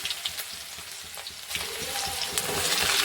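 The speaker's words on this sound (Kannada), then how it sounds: "ಇವಾಗ ಇದು ಈರುಳ್ಳಿ ಒಂದು ಕೆಂಪದಾಗತನ ಫ್ರೈ ಮಾಡ್ಕೊಳ್ಳೋಣ" Chopped onions hit hot oil already crackling with cumin and mustard seeds. Light, spitting pops grow into a louder, fuller sizzle halfway through and keep building, close and continuous.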